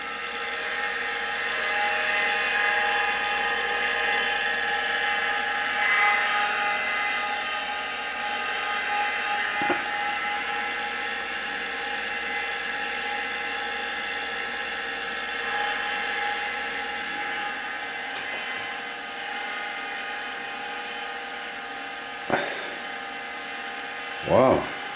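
An old Apple II hard drive spins with a steady, loud whirring hum and high mechanical whine, heard up close, with a couple of brief clicks from the head arm near the end.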